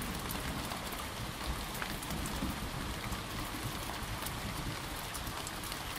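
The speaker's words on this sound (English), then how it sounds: "When the soothing sounds of rain and thunder enter the brain" Steady, dense rain pouring down and pattering on a surface, a constant wash of hiss with no voices and no distinct thunder.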